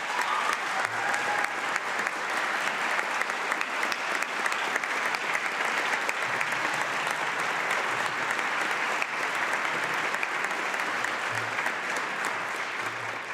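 Sustained applause fills a legislative chamber during a governor's State of the State address, a loud even roar of many hands clapping that continues without a break.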